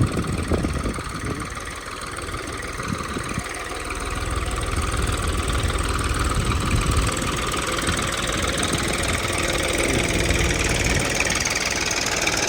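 A farm tractor idles steadily with a low, knocking mid-range engine rumble that holds throughout at a fairly loud, even level, with no talk.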